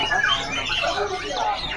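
Javan ledekan bird of the Gunung Ori type squawking at a busy morning bird market, a harsh, continuous chattering call held for a couple of seconds against crowd noise.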